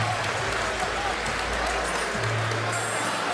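Hometown crowd in Huntington, New York applauding boxer Chris Algieri after a strong ninth round, a loud, continuous roar of clapping and cheering from the arena, with a commentator talking over it.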